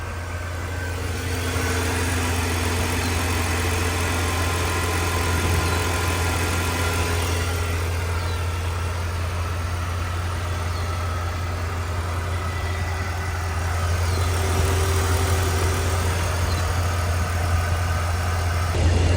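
A BMW M54 3.0-litre inline-six in a 2004 X5 with a 6-speed and 171,000 miles idles steadily after sitting for a while, a constant low engine hum with no speech.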